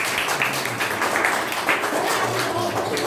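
An audience at a law classes felicitation event claps to welcome a faculty member, a steady wash of applause close by and filling the whole moment, with no voice over it.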